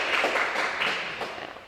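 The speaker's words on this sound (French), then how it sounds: "Merci d'applaudir François Biard." An audience at a business event applauds a speaker, a sustained, moderately loud patter of many clapping hands that eases off slightly toward the end, without talk.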